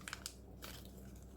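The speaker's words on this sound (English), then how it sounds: "crunch it up a little bit" Deckle-edged paper for a craft tag is crunched up by hand, giving a few brief crinkling crunches followed by softer rustling, close and quiet.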